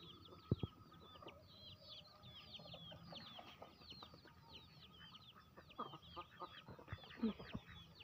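A hen and her chicks cluck and peep nearby. The chicks keep up rapid high cheeps and the hen adds low clucks, all fairly faint, with a few soft knocks in the background.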